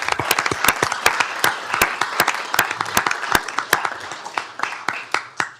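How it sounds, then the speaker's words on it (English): A room of Tarrant County commissioners court attendees applauds county employees, a lively burst of many hands clapping with sharp individual claps standing out, gradually thinning toward the end. "One more big round of applause for our Tarrant County employees."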